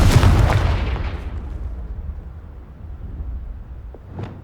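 A Confringo blasting spell detonates in Hogwarts Legacy, one loud booming explosion that decays over a couple of seconds, followed by a smaller pop near the end.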